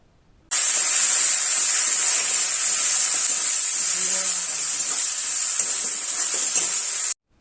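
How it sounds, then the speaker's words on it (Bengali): A spice paste with urad dal, ginger and cumin paste fries in hot oil for a Bengali pui data stalk dish. A loud, continuous sizzle starts abruptly, holds steady for about seven seconds, then cuts off. "দিয়ে ভালো করে ভাজতে হবে এবং এর সাথে দিয়ে দিতে হবে আদা এবং জিরের পেস্ট।"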